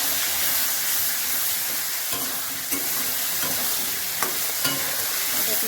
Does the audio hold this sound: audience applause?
no